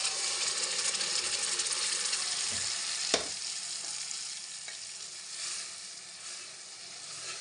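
Ground masala spices frying in a pan over cumin for a potato and pea dish, a steady close sizzle with light stirring and one sharp clink of a utensil partway through.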